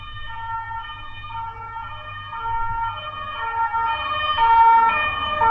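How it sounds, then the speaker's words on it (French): An emergency siren wails steadily as it passes along a city street, loud and fairly near, with a low traffic rumble underneath and no talking. "Il y a énormément de sirènes qui passent dans la rue, donc je laisse passer cette sirène."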